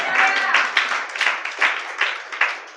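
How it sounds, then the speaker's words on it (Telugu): A church congregation claps together at a New Year service, a dense, loud run of hand clapping with rhythmic bursts rising and falling across a few seconds, with no voices standing out. "చప్పట్లు కొడదాం."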